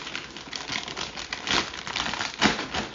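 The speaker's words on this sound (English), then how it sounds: "I'm going to open up the chip bag" Crisp plastic crinkling and rustling, like a snack bag being pulled open, with a few louder crackles close by.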